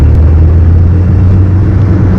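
Peugeot 205 hatchback engine heard from inside the cabin while driving, a constant loud low drone with road rumble and no audible talking.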